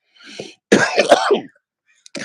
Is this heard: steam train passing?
no